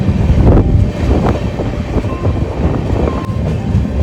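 A passenger train rumbles along loudly and steadily on the Jammu to Pune route, with a constant low roar and faint clacking of the wheels.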